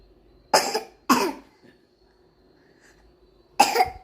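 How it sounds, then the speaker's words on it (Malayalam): Three separate coughs from a child, two close together and one after a pause, near and clear in an otherwise quiet room. "അപ്പൊ ചുമച്ച നോക്കട്ടെ എങ്ങനെ ചുമക്കുന്നത്"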